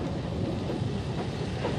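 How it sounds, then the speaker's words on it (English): A GNR S-Class steam locomotive drifts downhill with a five-bogie passenger train on the Derry Road line near Carrickmore, heard as a steady low rumble of moving rolling stock mixed with wind noise, brief and fairly close. "An unidentified S-Class drifts down the hill toward Carrickmore with a typical Derry Road train of 5 bogies with a GNR van tucked on at the back."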